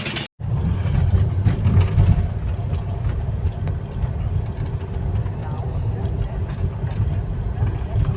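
A boat motor running at Kakinada, a steady low droning rumble close by with water and wind noise, a voice talking faintly over it.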